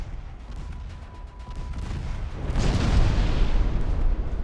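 Naval guns firing in the warship battle game Ultimate Admiral: Dreadnoughts, a low rumbling boom that swells about halfway through into a sustained, heavy roll of gunfire, fairly loud and without talk.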